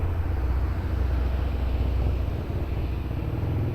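An airplane takes off from runway 02 at Lisbon Airport, a steady, heavy low roar that holds evenly throughout with no speech.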